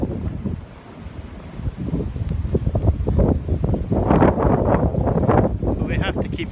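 Strong wind during a heavy snowstorm buffets and roars in loud, uneven gusts, with a voice speaking underneath the blustery noise.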